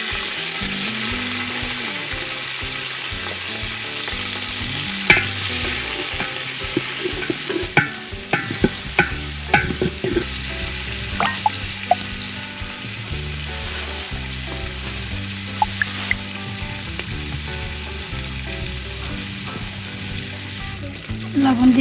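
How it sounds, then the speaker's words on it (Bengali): Onions and chillies sizzle in hot oil for a roasted bhuna khichuri, a loud steady frying hiss up close with intermittent spatula scrapes and clinks, and no talking. "তেল গরম হয়ে গেছে, পেঁয়াজ মরিচ দিয়ে দেব।"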